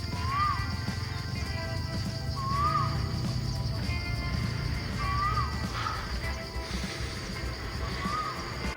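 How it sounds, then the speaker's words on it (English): At the edge of a rubber field in Thailand, a bird repeats a short, rising whistled call about four times at steady intervals, moderately distant over a constant hum of insects and background noise. "If you ever hear that bird, you know you're in Thailand."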